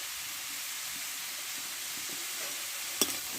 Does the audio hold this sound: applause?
no